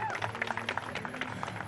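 A television debate studio audience claps in welcome for a guest appearing for the first time, a brief, moderately faint patter of applause blended with a continuous background of voices.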